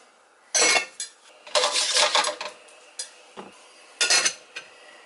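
Onions and green peppers tip into a pan for pre-cooking before stuffed peppers are baked, giving several close, loud bursts of clattering and scraping with short gaps between, plus a light knock and a faint sizzle underneath.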